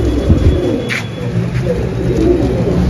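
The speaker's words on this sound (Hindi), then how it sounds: "एक से एक नसलदार कबूतर पड़ा हुआ है इसके अंदर" Pigeons of fancy breeds coo softly inside a loft, with low throaty calls repeating over a constant background hum.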